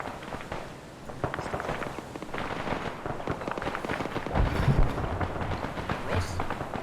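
Rapid gunfire from weapons in the ArmA military video game, a dense run of sharp shots and bursts across the whole stretch with a louder cluster near the end, while a person talks over it.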